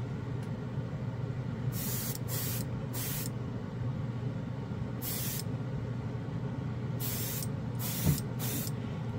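Spray paint hissing onto a panel in repeated short bursts, laying down a coat of SMS color shift paint over gray, fairly close over a low background rumble and with no voices.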